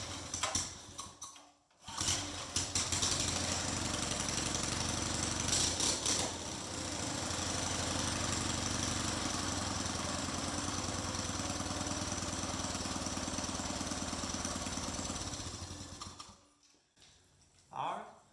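A Briggs & Stratton small engine with a freshly replaced carburetor diaphragm sputters, catches and runs with a loud, steady chugging for about thirteen seconds, then cuts out, with a voice talking near the start and end.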